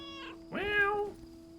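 A cat gives a short meow, preceded by a brief higher mew-like call, over a faint steady hum in a quiet setting.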